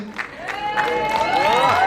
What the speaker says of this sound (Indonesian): Tepuk tangan dong buat ibu kita